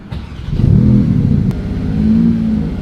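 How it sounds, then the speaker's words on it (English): A Porsche 911 GT3 engine, rebuilt after crash damage, revs hard and holds a loud, rough roar for a couple of seconds, close by, with no talking. "so let's give it some revs."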